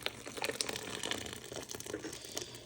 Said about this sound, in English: I'm gonna pour our sauce into it.